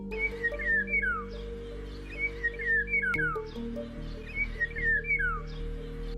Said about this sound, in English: Goldie's bird of paradise.